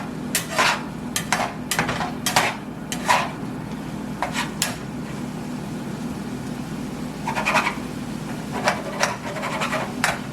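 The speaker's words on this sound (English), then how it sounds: "I'm just cutting it up with my spatula" A metal spatula chops bacon frying in a pan, giving repeated sharp scraping taps in irregular clusters over a low steady sizzle, close and fairly loud, with no talking.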